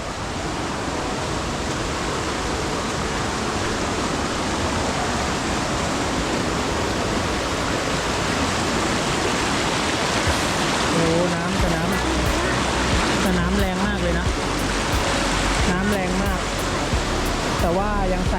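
The strong flow of Wang Bo waterfall in Prachinburi roars as dense, steady broadband rushing water throughout. Brief faint sounds rise above it near the end.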